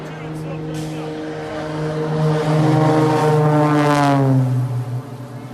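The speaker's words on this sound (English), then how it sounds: "This plane flying sideways." A propeller airplane flying sideways passes close and loud, its heavy engine drone holding steady and then sliding lower in pitch as it moves away.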